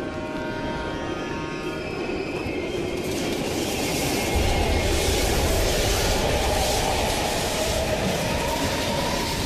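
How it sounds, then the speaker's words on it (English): A train passing in Call of Duty: Black Ops Cold War in East Berlin, a loud, continuous rumble of rolling wagons with wheel squeal and clattering that swells as it nears. "We can use a train to slip past."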